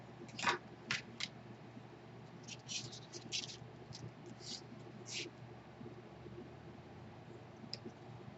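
Paper cut with scissors for a handmade mini album, heard as a few crisp snips followed by scattered lighter clicks and rustles, close and fairly quiet over a soft background hum.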